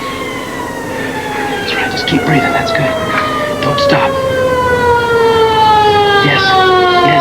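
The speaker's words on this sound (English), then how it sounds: "You hear that? That's the siren." An emergency vehicle siren wails loud and close, its long tone sliding steadily downward as it passes, while someone speaks calm, urgent words over it.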